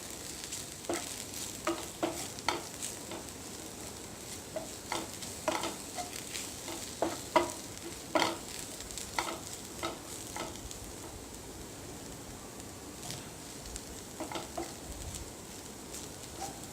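Spices and chilli powder for egg masala fry in a pan, a steady low sizzle marked by repeated short scraping stirs at an irregular pace, nearby and moderately quiet, with no talking.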